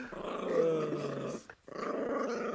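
A dog growls low and steadily in the background of an online voice chat during an Overwatch game, fairly faint, breaking off briefly before rumbling on, with no speech.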